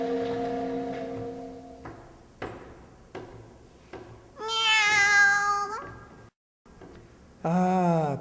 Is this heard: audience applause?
no